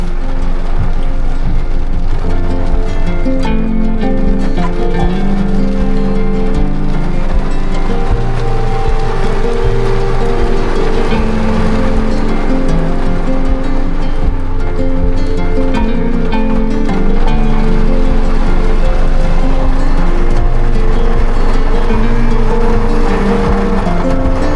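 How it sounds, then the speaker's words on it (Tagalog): Heavy rain on a construction site in Antipolo roars as a loud, constant, dense rush of noise with a low rumble beneath it, unbroken from start to finish. "Malakas na ulan to."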